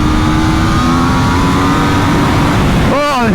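Aprilia or Honda superbike engine on a racetrack, a steady loud mid-pitched drone that swells into rising, sweeping revs near the end, close and continuous.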